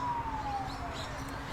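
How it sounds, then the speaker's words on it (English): A police car siren sounds as a single steady, slowly falling wail over a dense rumble of background noise, moderately loud and heard on its own without talk. "That's a police car."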